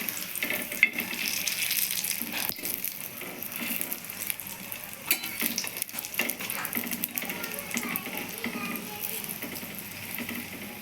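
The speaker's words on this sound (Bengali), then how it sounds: "এটাকে ভালোভাবে ভেজে নিতে হবে।" Mughlai paratha shallow-frying in a pan over low gas, a steady close hiss and crackle of oil running evenly throughout with no one talking.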